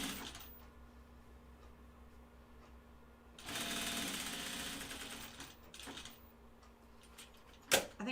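A sewing machine runs top stitching on a Kelly Anorak, quiet at first, then a loud steady burst of rapid mechanical stitching in the middle, followed by shorter runs and a sharp clack near the end.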